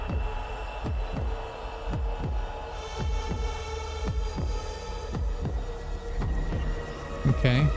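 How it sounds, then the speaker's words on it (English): Heartbeat-like percussion in video game music thumps in a slow, regular double-beat pattern about every second, over a sustained humming musical backdrop with strings, and a voice talks briefly near the end. "the heartbeat like percussion"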